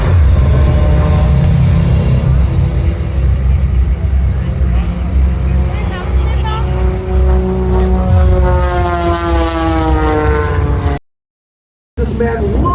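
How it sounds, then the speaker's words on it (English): A purpose-built aerobatic propeller plane at the Orlando air show drones loudly overhead, its engine pitch sweeping up as it climbs, with a crowd-noise bed and a public-address announcer talking. "This is a purpose-built aerobatic aircraft as Michael Julian spins knife edge on the upline."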